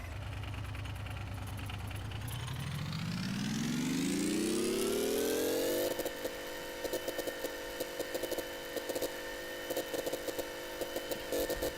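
Simulated motorcycle engine in the Gearblocks building game, idling low then revving steadily upward over several seconds to a high, buzzing steady whine that holds with a choppy, stuttering texture.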